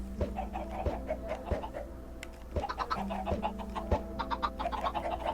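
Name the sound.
chickens clucking in the video game Minecraft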